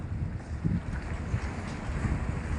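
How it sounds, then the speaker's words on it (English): Steady wind buffets the microphone with low rumbling gusts throughout at Lei Yue Mun, Hong Kong, no voices present. "It's a bit windy."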